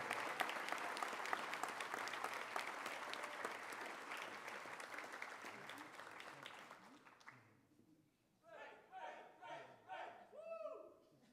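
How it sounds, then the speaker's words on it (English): A high school awards ceremony crowd applauds students who completed a personal project, a long, loud, even roar of clapping that fades out, after which a lone voice speaks. "Let's give a round of applause to all our students who completed the MYP personal project."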